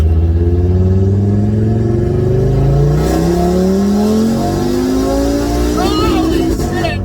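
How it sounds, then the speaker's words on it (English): An Audi RS3 on an E85 tune accelerates through a third-gear roll on a damp road, engine note climbing steadily and loudly with a faint rasp near the end, while a person talks over it. "It's a little too damp out on the road to handle all that power on a third gear roll."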